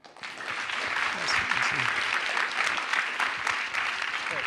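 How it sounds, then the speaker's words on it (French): Steady applause from a student audience at an HEC business school debate hosting a pastry chef and chocolatier, the dense clapping swelling quickly and holding at an even level throughout. "Je pense qu'on peut les applaudir."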